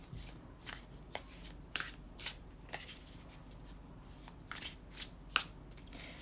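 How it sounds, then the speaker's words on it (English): Cards are shuffled repeatedly up close, crisp riffling bursts recurring every half second or so, with soft handling noises between. "And again, let's shuffle with intention."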